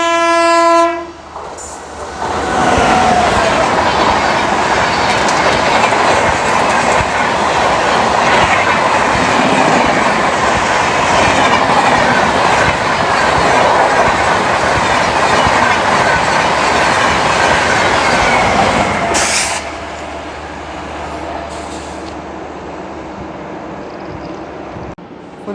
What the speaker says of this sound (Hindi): सामने से आ रही 2221 हज़रत निज़ामुद्दीन CSMT जाने वाली CR राजधानी एक्सप्रेस